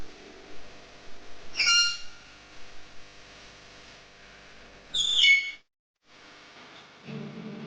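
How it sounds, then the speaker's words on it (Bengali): Pet birds kept at home give a few short, high whistling calls, two clear bursts standing out over quiet indoor background. "আমাদের পাখিগুলো ডাকছে"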